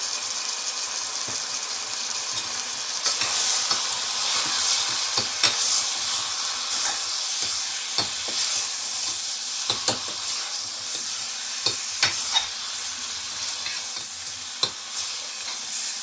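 Gongura mutton curry cooks in a pan with coriander powder and chili, a steady hissing sizzle under repeated sharp scrapes and clinks of a spoon stirring, close and moderately loud, with no one speaking.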